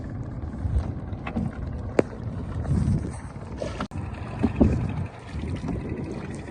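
A boat on a river in Bangladesh, with low rumbling and sloshing water, occasional knocks, and wind buffeting the microphone.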